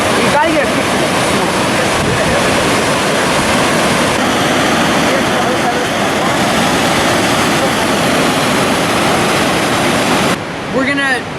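A waterfall on a Wisconsin stream roars as a loud, steady, broadband rush of falling water close by, with no breaks, and a voice briefly audible near the end.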